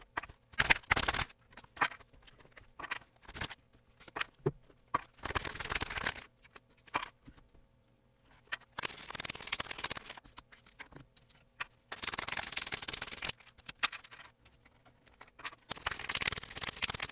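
A deck of tarot cards is shuffled in several separate bursts of quick, papery riffling and patter, with quiet pauses between them and no voices.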